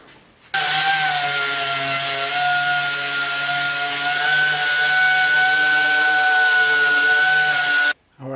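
A power sander whirs loudly and steadily for about seven seconds against a deer antler clock piece, with a constant droning tone, starting and stopping abruptly.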